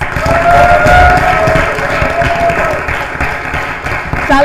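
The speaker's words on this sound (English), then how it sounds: "a big round of applause for my amazing audience" A studio crowd claps and cheers in a dense, loud wash of applause that holds steady, then thins slightly toward the end.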